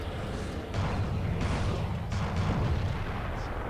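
Starship phasers and weapons fire all at once in the space combat game Starfleet Command, making a dense, booming roar with several heavy bursts layered over one another.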